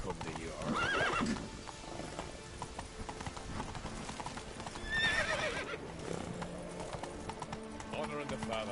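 Roach, the horse in The Witcher 3 game, clip-clops in a steady galloping rhythm with a couple of loud whinnies and neighs near the start and middle, under game music and someone talking.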